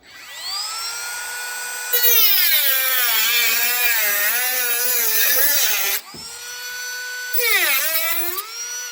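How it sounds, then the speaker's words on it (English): A high-speed rotary tool cuts through a metal tab on a jalousie window, whining loud and close, rising in pitch as it bites and dropping as it frees, then a short second cut. "I'm just going to cut this line off to remove this tab"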